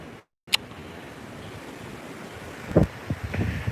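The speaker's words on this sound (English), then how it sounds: "We're getting some really strong south winds right now" Strong south wind rushes and buffets the microphone during a thunderstorm near open water, a steady roar with a sharp clack early and louder gusty bursts toward the end.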